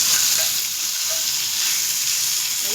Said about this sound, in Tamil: கொஞ்சம் அப்படியே ஃப்ரை பண்ணிட்டே இருந்தீங்கன்னா செட் ஆயிடும்